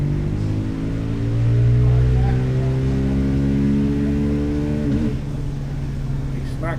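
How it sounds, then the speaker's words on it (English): A motorcycle engine on a dyno run screams up through the revs with a rising harmonic whine, then stutters against the rev limiter before dropping off; loud and close, with a voice speaking near the start. "You smacked the rev limiter"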